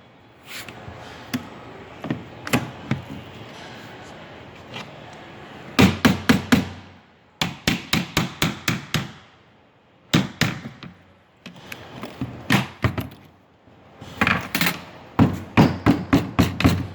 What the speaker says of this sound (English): Just light taps with the rubber mallet.